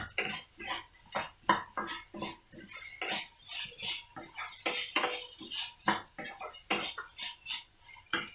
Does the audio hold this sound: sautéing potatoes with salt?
yes